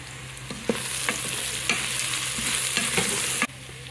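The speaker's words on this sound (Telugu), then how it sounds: "కొత్తిమీర, పుదీనా వేస్తున్నానండి." Coriander and mint being stirred into frying veg pulao in a Geek Robocook cooker, a close steady sizzle with soft rhythmic stirring scrapes and a few sharper clicks, ending abruptly.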